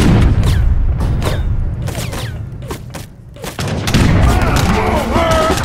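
Repeated booming blasts and sharp impacts of cannon fire in Age of Empires III, loud and close, in an irregular barrage with a voice speaking at times.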